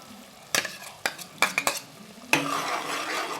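Onion and ginger-garlic paste fry with tomato paste in a pan for a country-style chicken curry. A spoon stirs and scrapes in several sharp strokes over a soft sizzle, then the sizzle swells and stays steady.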